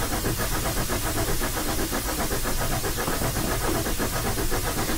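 A PRR K4 steam locomotive hauling the Pittsburgher in Train Simulator 2022, with rapid rhythmic chuffing and steam hiss over a constant rumbling roll, steady and loud throughout.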